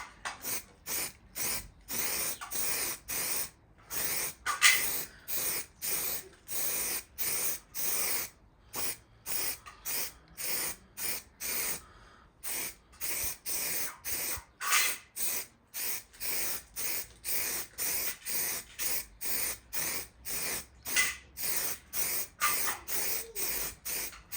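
A spray gun hisses in steady, regular bursts while laying a third coat of primer on a Hyundai i10 body, each loud, close spray pass separated by a brief gap, continuing throughout.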